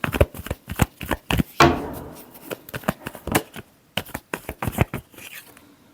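A deck of tarot cards is shuffled by hand in quick, crisp riffling bursts with short gaps between them, close and fairly loud, and there are no voices.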